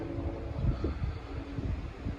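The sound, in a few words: strong wind blowing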